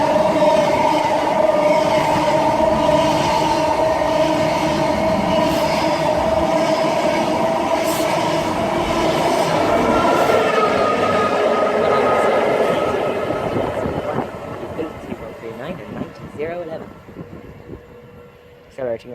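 A passenger train on the Great Eastern Main Line at Kelvedon accelerates away, a loud sustained roar with rail clatter that holds steady and then fades out over the last few seconds, leaving faint background sound.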